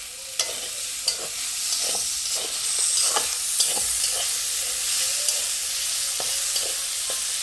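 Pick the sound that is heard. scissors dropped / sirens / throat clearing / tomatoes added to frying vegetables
tomatoes added to frying vegetables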